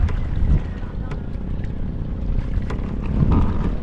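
A small boat rocks on the water at low tide off Maniwaya in Santa Cruz, Marinduque, with a steady close rumble of wind and engine noise washing over the microphone.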